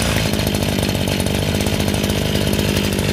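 An Echo two-stroke grass trimmer engine runs hard and continuously close by, a loud buzzing, chainsaw-like drone that holds steady throughout with no talk over it.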